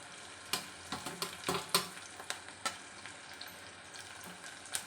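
Dry coconut, garlic, ginger and bay leaf roast in a pan with onion for Marathi egg curry, giving a soft sizzle punctuated by repeated sharp scrapes and knocks of a spatula stirring, close by.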